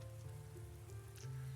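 Steady rain in a visual novel game, falling cold and constant on an umbrella and the surfaces around, a soft continuous patter with a low hum of background music underneath.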